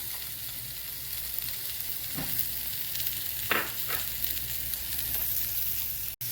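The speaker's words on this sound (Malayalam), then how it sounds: "ഞാൻ ഇതിലേക്ക് ക്യാരറ്റ് ഇട്ടു ഇനി ക്യാബേജും ഇടാണേ ഇതിലേക്ക്" Carrots frying in an oiled pan for a Kerala cabbage stir-fry (upperi), a steady broadband sizzle throughout with a few soft stirring scrapes, fairly close and moderately loud, no talking.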